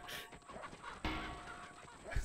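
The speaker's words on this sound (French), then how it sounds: "Mais y'a tellement de poules autour là maintenant!" Chickens and geese-like fowl cluck and honk in the video game Pacify, a busy flock of short squawks close by, with a sharper burst near the end.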